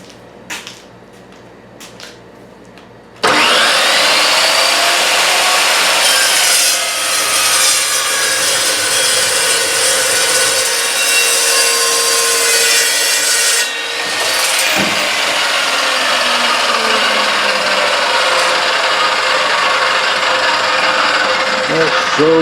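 A saw cutting through aluminum stock in a home workshop, loud and continuous for about nineteen seconds after a quiet start, with a brief dip partway through before the cut resumes.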